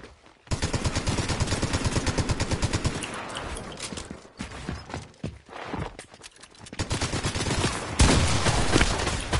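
Rapid bursts of automatic gunfire from a Fortnite match, loud and close, firing in long rattling strings broken by short pauses, with no talk.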